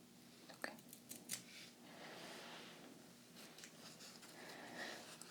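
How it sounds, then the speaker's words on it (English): Small, not very sharp scissors trimming a piece of a Jack Skellington Halloween cake pop decoration, giving a couple of faint, close snips amid soft rustling in a quiet room. "These aren't the best scissors in the world,"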